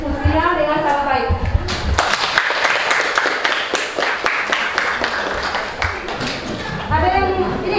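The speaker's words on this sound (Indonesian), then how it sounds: "kita berikan tepuk tangan kepada kelompok yang ada unit telah mempresentasikan hasil diskusinya dengan sangat baik" A group in a classroom gets applause after its presentation: several seconds of dense, fairly loud clapping from many hands, with talking at the start and the end.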